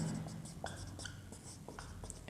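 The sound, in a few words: writing on a board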